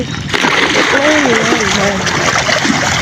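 Fish splash and thrash at the water surface while being fed, making steady splattering under continuous excited talking nearby.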